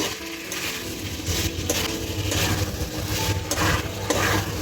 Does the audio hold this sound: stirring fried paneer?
yes